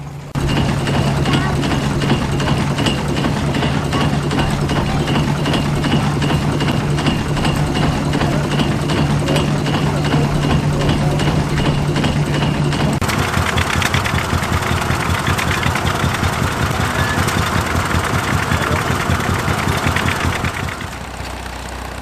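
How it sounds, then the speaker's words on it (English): A steady, loud mechanical rhythm of a 6 nominal horsepower Marshall portable steam engine driving a giant reciprocating saw, chugging continuously, with the tone shifting partway through. "This 6 nominal horsepower Marshall Portable was driving a giant reciprocating saw."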